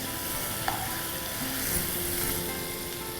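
Onions fry with turmeric and ginger garlic paste for a chicken keema. A soft, steady sizzle runs throughout, with a faint clink of the stirring utensil.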